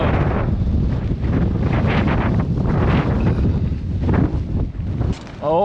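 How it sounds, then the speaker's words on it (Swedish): Strong gusts roar across the microphone aboard a boat caught in stormy weather, a dense steady rumble with some buffeting, and a voice speaks briefly beneath the wind. "Ja, nu jäkla blåser det."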